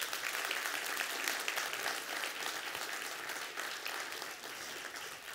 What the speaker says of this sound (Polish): Jeszcze raz brawa!